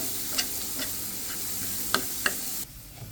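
Onions frying in oil in a pan for Bengali aloo bhorta are turned over, giving a steady close sizzle broken by a few sharp scrapes, until the sound suddenly drops away near the end.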